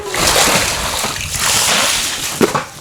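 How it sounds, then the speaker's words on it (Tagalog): Water splashes and sloshes loudly as a pond holding tilapia is drained, a continuous rushing splatter with a sharper splash near the end, close and without talk. "Kailangan naming ma-drain ng tubig upang masimula na ang pag-construct ng ating secret room"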